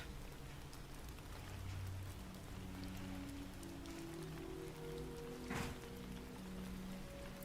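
Steady rain sound looped as background in a live ASMR chat stream, a soft continuous patter of drops on a surface with faint music tones running underneath, evenly level throughout.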